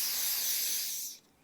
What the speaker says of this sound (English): spray a little of that on a paper towel